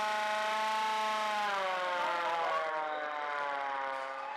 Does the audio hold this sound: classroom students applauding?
no